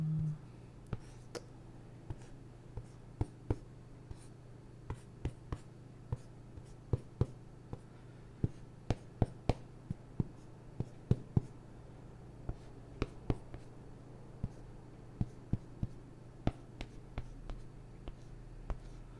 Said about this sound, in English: I'm gonna draw here.